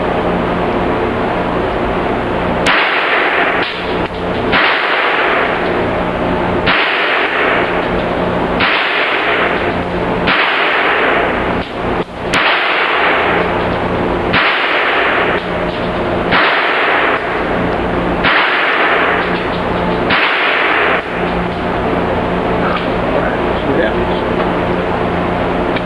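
A .22 caliber rifle fired from a bench rest at a shooting range, about ten sharp reports at roughly two-second intervals, each with a short ringing decay, over steady background noise.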